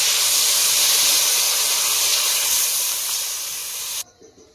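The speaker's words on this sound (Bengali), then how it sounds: "আলুটা কষানো হয়ে গেছে এবার জল দিয়ে দেবো" Water poured onto sautéed potatoes in a hot pan sizzles with a loud, steady, steamy hiss for about four seconds, then cuts off abruptly into quiet.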